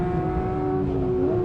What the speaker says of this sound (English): Still got that high-pitched howl that you want from an NA Porsche engine.